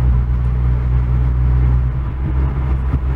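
A car with a turbocharged BMW N55 engine accelerates under light throttle, a loud, steady low rumble from inside the cabin with a faint turbo whoosh.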